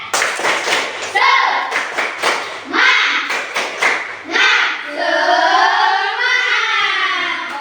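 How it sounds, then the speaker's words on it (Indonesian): Children in an Indonesian classroom perform a rhythmic spirit clap, bursts of sharp hand claps in patterned groups, loud and close, with children's voices chanting along and a sustained sung tone toward the end. "Oke, tepuk semangat."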